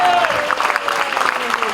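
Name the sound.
audience applause for the children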